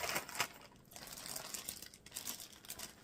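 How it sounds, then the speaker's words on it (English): A plastic Ziploc bag from an unboxing is handled up close, with continuous soft crinkling and crackling that rustles irregularly for a few seconds without talk. "Okay, we have another plastic bag,"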